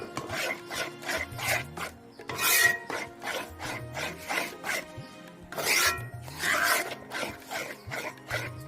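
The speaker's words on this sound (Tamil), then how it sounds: "நல்லா கிண்டி விடுங்க. அடி பிடிக்காத கிண்டிட்டே இருங்க." Wheat halwa with sugar is stirred in a pan, making rhythmic scraping and rasping strokes that come in short repeated bursts, with a few louder swipes.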